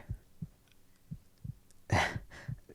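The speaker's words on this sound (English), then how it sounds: "Still, I can hear and feel your heart beating quite quickly." A heart beats quickly in an ASMR roleplay with a werewolf character, giving soft, low thumps in a steady rhythm of roughly three per second, close and quiet, with one louder muffled bump near the end and no speech.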